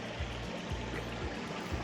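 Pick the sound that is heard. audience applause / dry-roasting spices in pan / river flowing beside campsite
river flowing beside campsite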